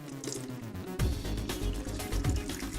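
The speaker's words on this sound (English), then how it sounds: "draining the water out of the block" Water drains out of a car engine block, a steady trickling and splashing flow under a humming background, with a sharper surge of pouring about a second in.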